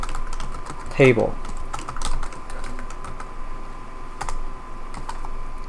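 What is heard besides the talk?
typing on a computer keyboard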